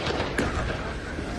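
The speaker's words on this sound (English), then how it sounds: "Fireworks can be heard going off as the stage burned Wednesday." Fireworks burst over a burning main stage at Belgium's Tomorrowland EDM festival: one sharp pop stands out against a dense, steady roar of broadband noise.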